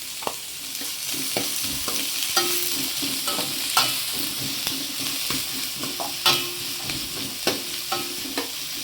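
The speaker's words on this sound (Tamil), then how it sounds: "வெங்காயம் வதங்கட்டும்" Onions and dried chillies sautéing in a pan with a little salt: a continuous hissing sizzle close up, punctuated by regular sharp spatula taps and scrapes against the metal.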